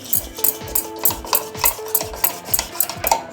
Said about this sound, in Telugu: ఉండలు లేకుండా ఇట్లా మిక్స్ చేసుకోండి